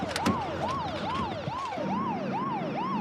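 An ambulance siren wails in a steady up-and-down cycle, repeating about every half second, fairly close and clear over a faint rumble of road traffic, with no voices.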